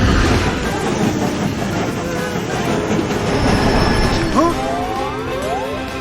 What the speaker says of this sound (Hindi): वाओ, एक सुपर ट्रेन।